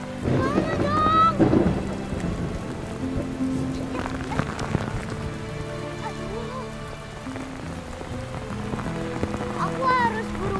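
Rain falls steadily, a constant patter under a dramatic music score with tonal swells and a voice cutting through at moments.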